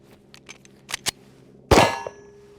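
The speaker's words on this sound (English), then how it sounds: "We'll load up a couple magazines." Pistol magazines are loaded at a shooting range: light metallic clicks tick in quick succession, then a loud, sharp metal clang rings out and decays.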